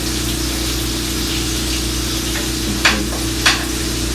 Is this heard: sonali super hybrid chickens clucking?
no